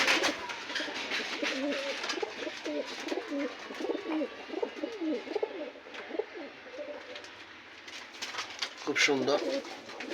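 Pigeons in a rooftop pigeon farm, with soft repeated cooing close by as someone speaks over them.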